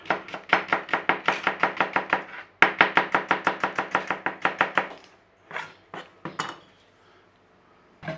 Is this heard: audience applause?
no